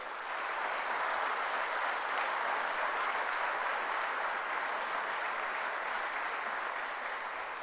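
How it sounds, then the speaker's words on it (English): Conference delegates applauding in a hall, a dense, continuous wash of many hands clapping at steady volume throughout, with no voices over it. "I request all the delegates give big claps to the VIT management."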